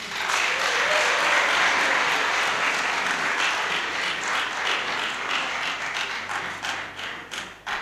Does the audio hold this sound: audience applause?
yes